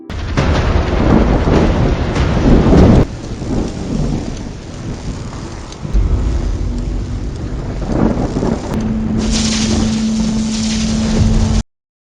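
A loud thunderstorm with heavy rain roars steadily. Deep rolling thunder swells and fades, and rain hisses over everything before the sound cuts off abruptly at the end.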